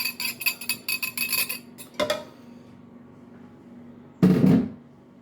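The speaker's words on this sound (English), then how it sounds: "we're gonna mix these 2 eggs up real quick" Two eggs are whisked for pumpkin bread batter with a rapid, rhythmic clatter of a utensil against a bowl, followed by a pause and then a single louder clunk.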